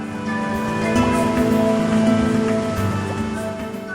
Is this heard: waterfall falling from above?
yes